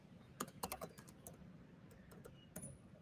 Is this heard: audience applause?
no